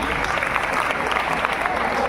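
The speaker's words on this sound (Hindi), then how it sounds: "सही आंसर, जोरदार ताली।" A school quiz competition audience gives loud applause for a correct answer, a steady, dense round of clapping from the crowd filling the room.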